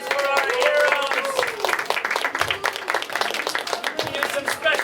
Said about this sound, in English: another big round of applause for our heroes